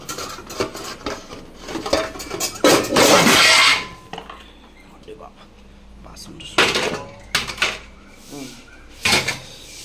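Pots, pans and utensils clatter in a home kitchen as cooking gets under way, with bursts of loud metallic clanking and scraping between quieter gaps and a person talking.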